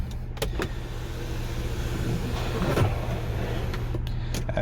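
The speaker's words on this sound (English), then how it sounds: "the sunroof it'll open up fully" Electric sunroof of a 2015 MK7 VW Golf R Estate DSG sliding open, a steady low motor whir inside the cabin running for several seconds with a faint click near the start; no talking.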